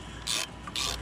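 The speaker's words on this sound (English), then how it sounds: "now that we've got the right size ratchet" A stubby ratchet wrench works on the idle air control valve of a car engine with a high idle, giving two brief, close, crisp ratcheting bursts, quiet background and no talk.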